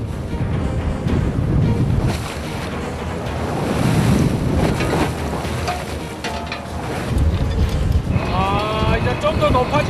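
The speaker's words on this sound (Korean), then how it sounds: "성난 파도는 쉽게 멈추지 않는다." Rough winter sea waves crash and wind buffets around a skate fishing boat off Heuksando, a loud continuous roar of surf and gusting wind noise, with brief voices and clanking near the end.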